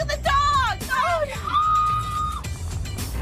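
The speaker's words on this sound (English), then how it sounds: "I just heard a bunch of screaming." People screaming, yelling and whooping loudly at a party on a bus, with several high, drawn-out shrieks overlapping in quick succession, close and raucous.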